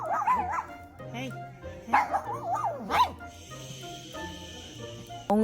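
A beagle on the way to the vet barks, yips and whines in loud, pitched bursts over the first few seconds, then whimpers more softly, with a steady background hum underneath.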